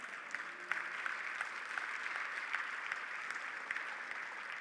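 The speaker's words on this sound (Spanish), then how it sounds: "¿Cuánto le damos un aplauso al Señor?" Congregation at a church service clapping for the Lord, steady distant-sounding applause of many hands throughout, moderate in level with no talk over it.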